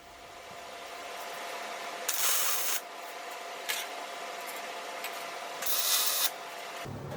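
Metal being tack welded, heard as two loud bursts of hissing, crackling arc noise with a short crackle between them over a steady background hum, each burst under a second long.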